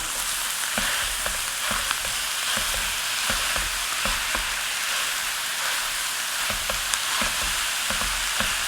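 Ground meat sizzles and fries with browning garlic in a pan, a steady close crackle broken by occasional sharp pops and scraping stirs, with no talk over it.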